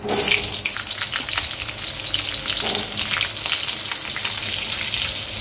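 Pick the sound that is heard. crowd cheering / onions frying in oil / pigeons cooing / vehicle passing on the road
onions frying in oil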